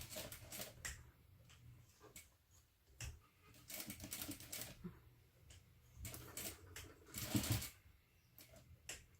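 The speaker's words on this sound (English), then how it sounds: "I'm sewing at the folded end of the strap" A sewing machine stitches across the folded end of a fabric strap on a mini backpack, with quiet close bursts of rapid mechanical clatter separated by short pauses.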